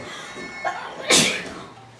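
A single sharp sneeze, preceded by a short intake of breath, close and loud in an otherwise quiet room.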